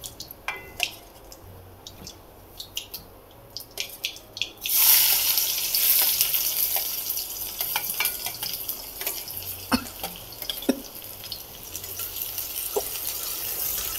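Cumin crackles faintly in hot oil for a fig-vegetable (umbar bhaji) dish until chopped onion is tipped in, setting off a sudden loud, hissing sizzle. The sizzle settles into steady frying with scattered pops and stirring scrapes, close by and without speech.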